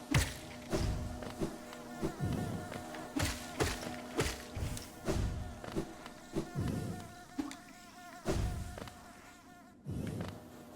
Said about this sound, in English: Let's check out that place behind the bees, behind the breakable wall.